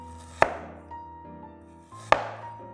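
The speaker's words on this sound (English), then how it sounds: "Slice up another 4 slices of ginger" A knife slices ginger on a cutting board for soy sauce steamed fish: two sharp, close knocks about two seconds apart, each followed by a short ringing decay, with no talking.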